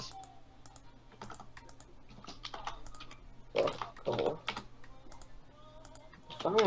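Typing on a computer keyboard during a Minecraft Hunger Games match, with scattered soft key clicks spread across the clip and a few denser bursts of fast keystrokes near the end, recorded close over a low steady hum.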